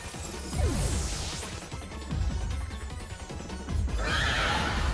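A horse Pokémon's synthesized neigh rings out during a Pokémon VGC Regulation G battle, loud and close, mixed with crashing attack effects and whooshing game sounds.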